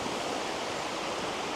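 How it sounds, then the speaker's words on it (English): A small, active river in South Wales rushes over little rapids and cascades in a dense, continuous broadband roar, close and steady with no other sounds. "Quite an active little river this."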